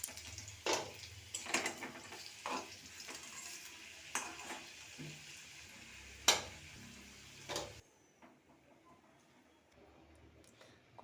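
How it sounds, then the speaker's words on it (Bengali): Potatoes rubbed with salt and turmeric sizzle in hot oil in a wok while a spatula scrapes and clinks against the pan. The frying then drops away to near quiet as the pieces are lifted out. "আলুটা ভাজা হয়ে গেছে। এরপরে আমি তুলে দেবো।"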